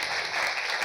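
A short burst of steady audience applause at a conference on female leadership, an even wash of many hands clapping at a moderate distance.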